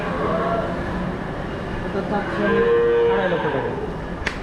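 A red cow at a cattle farm near Khorkhori bazaar in Rajshahi, where animals are kept for Qurbani, gives a single drawn-out moo midway. Loud, constant farmyard noise surrounds it.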